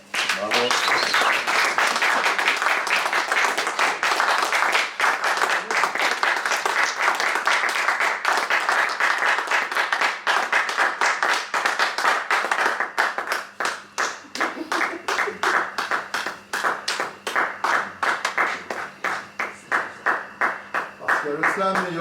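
Audience at a slam poetry night in a Cannes venue applauding: a long, loud, dense round of clapping that gradually thins into separate, rhythmic claps, with cheering voices mixed in throughout.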